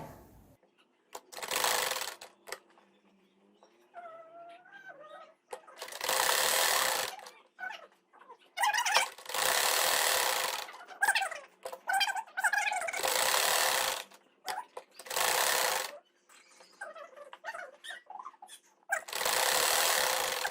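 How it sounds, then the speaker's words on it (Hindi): Sewing machine stitching the hem of a salwar poncha, running in repeated bursts of fast mechanical whirring lasting a second or two each, with quiet pauses and a voice talking between runs. "अब मैं ऊपर की सिलाई लगाऊंगी।"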